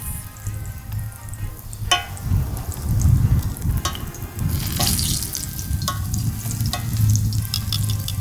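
Sugar dumplings and plantains frying in hot oil outdoors during a Jamaican breakfast cook-up, a steady close crackle and sizzle with occasional sharper pops and light clinks, no talking.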